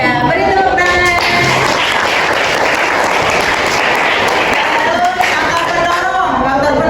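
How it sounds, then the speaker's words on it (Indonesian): Classroom applause, a dense patter of many students' hands clapping steadily throughout, with voices and chatter mixed in over it. "beri tepuk tangan"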